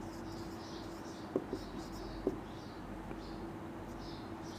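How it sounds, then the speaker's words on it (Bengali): A teacher writes on a board during a Bangla grammar lesson on nouns, leaving faint scratching with a couple of soft taps over a steady low room hum; no one speaks. "এরপরে যদি আমি লিখি"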